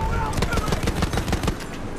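A weapon in the video game Battlefield 1 fires in a rapid, evenly spaced stream of shots that runs almost the whole time, with a voice talking over the gunfire.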